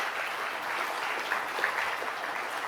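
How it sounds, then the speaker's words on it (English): Steady audience applause at an opening speech for a maritime industry event, a dense wash of many hands clapping, moderately loud and continuous with no talk over it. "Maybe a round of applause for MPA colleagues."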